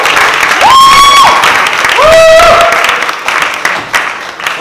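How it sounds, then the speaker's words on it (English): Wedding guests in a reception room applaud the best man with loud, sustained clapping. Two rising whistles cut through the applause, which then thins out into scattered claps. "let's give a warm round of applause for the best man"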